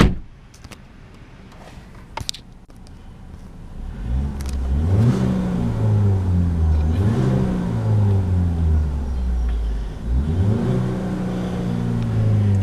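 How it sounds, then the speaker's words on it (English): A 2013 Ford Focus S engine starts after a few clicks and thumps, then gets blipped in several sharp rises up to the rev limiter, each falling back between, loud and close. "So we'll go ahead and give this one just a quick rev"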